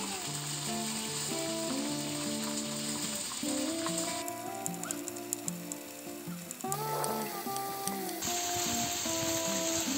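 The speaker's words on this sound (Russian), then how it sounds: "Курочка обжарилась с одной стороны." Chicken fries in a kazan over a campfire, giving a continuous oily sizzle and crackle with occasional sharper pops, heard beneath steady tonal background music.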